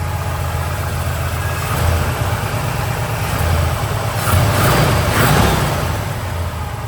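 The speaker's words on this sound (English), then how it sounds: "There's your small block Chevy engine, 350." A rebuilt 350 small-block Chevy V8 in a 1965 Chevelle Malibu with headers idles steadily and loud at close range, a continuous low rumble with no talk over it.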